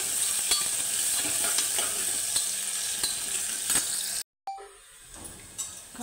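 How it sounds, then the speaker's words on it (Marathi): A handful of onion sautéing in a pan, giving a continuous crackling sizzle with regular scraping stir strokes, then a sudden short break and a quieter, thinner sizzle afterward. "कांदा चांगला परतून घ्यायचा"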